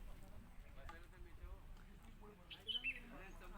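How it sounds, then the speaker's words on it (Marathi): An Asian koel calls briefly a couple of times partway through, faint against a steady murmur of outdoor background noise and distant chatter in Nainital. "कोकिळा गाती आहे असा कोकिळेचा आवाज"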